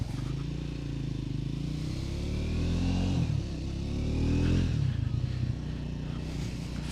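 A 2024 Triumph Scrambler 400 X motorcycle rides along a road, its single engine droning steadily and rising through gear changes with two clear upshifts, close and loud with wind rush and no talk.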